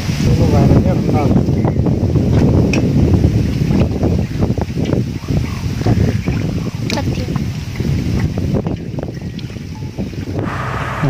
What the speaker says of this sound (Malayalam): ഇവിടെ നല്ല കാറ്റടിക്കുന്നുണ്ട്, കാറ്റുണ്ട്, ഒരു മഴക്കോളൊക്കെ ഉണ്ട്, ഇടിമുട്ടുണ്ട്. അതാ ഈ കാറ്റിൻ്റെ സൗണ്ടാണ്